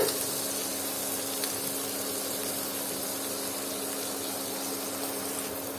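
Sliced onion sizzles in a pan of frying noodles and vegetables, a steady, even hiss of frying oil with a faint hum underneath.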